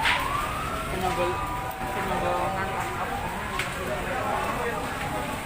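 A fire engine siren wails through the commotion of a market fire in Weleri, Kendal, Central Java, its rising tone carrying over steady crowd noise and voices.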